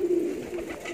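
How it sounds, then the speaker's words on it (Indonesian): A jetmatic gambir pigeon gives a soft, brief coo at close range while being fed, quiet and alone. "sambil kasih makan merpati ya"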